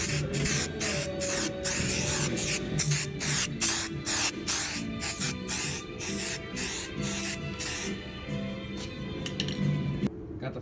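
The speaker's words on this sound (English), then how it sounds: "Got the first coat of white on for the base coat of the rising sun." Spray can laying a white base coat on a lawnmower hood, a rapid series of loud, short hissing bursts with brief gaps between them, growing sparser and fainter toward the end, with light clinks in the background.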